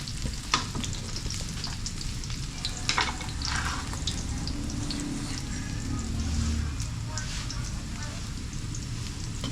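Garlic and onion frying with native chicken, a steady close sizzle with occasional stirring clatter, with people talking over it.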